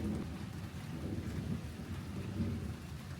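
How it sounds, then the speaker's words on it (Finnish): A violent thunderstorm on a Vietnamese island, heavy rain pouring steadily on surfaces with deep rumbles of thunder rolling underneath, dense and continuous throughout. "Täällä on meneillään ihan älytön myrsky."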